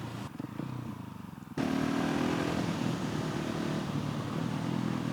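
Motorcycle riding on the road, a steady, close engine drone with wind rush that jumps abruptly louder partway through and then holds even.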